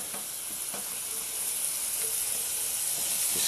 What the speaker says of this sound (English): Just kind of stir fry them around.